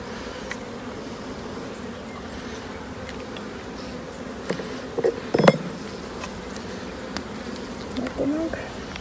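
Honeybees buzzing at a hive in the mountains, a dense steady hum close by with a few louder passing bees and brief handling noises, no talk heard.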